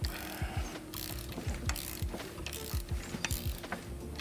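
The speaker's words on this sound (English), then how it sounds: "Let's torque this down and see what we get." A ratchet wrench torques down bolts during a Porsche 3.2 engine top-end rebuild, clicking in fast repeated pawl bursts, loud and close, with no talk.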